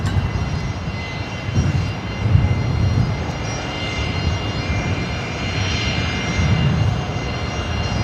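At Brisbane Airport, an Air New Zealand Boeing 777 rolls out after landing with a steady, moderately loud engine rumble and whine that holds without a break.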